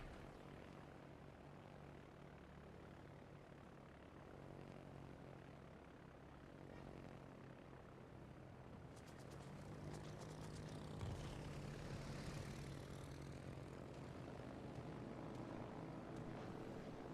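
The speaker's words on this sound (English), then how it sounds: "Probably going to be losing a lot of these planes right at the moment." Carrier-launched propeller aircraft in the World of Warships naval video game drone steadily at low volume, a continuous engine hum that grows a little louder in the second half, with no talking.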